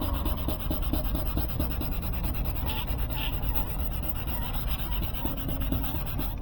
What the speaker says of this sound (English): As I'm sanding, I'll spray.